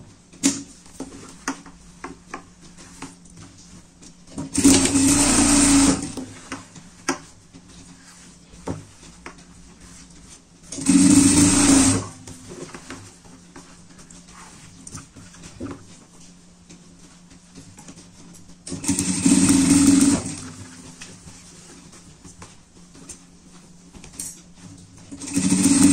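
A sewing machine runs a triple stitch across a pet bed in four separate bursts of steady, rapid needle clatter a few seconds apart, close and loud. Quieter handling noises fill the gaps between them.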